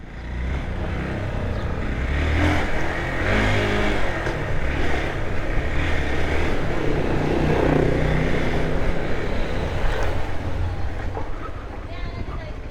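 A brand-new 2024-model motorcycle, bought the day before and overheating with hot steam venting near the rider's feet, roars steadily on the move with engine and wind noise throughout, voices faintly mixed in.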